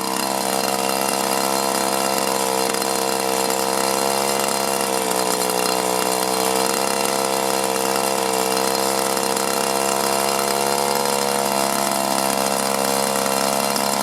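Small two-stroke engine of a trimmer or chainsaw running steadily while warming up, a loud, constant buzzing drone with slight pitch wavers and no clear throttle burst.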